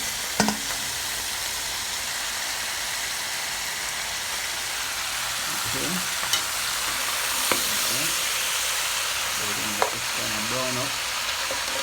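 Meat browning in a pot for a five-meat stew, giving a loud, steady sizzle and crackle throughout, with a few soft clinks and scraping sounds over it.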